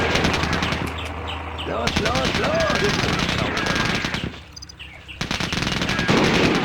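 Dense rapid fire and explosions from a Katyusha rocket launcher in the Sudden Strike Forever war strategy game, layered with crackling gunfire and bird chirps, while someone talks over it in German.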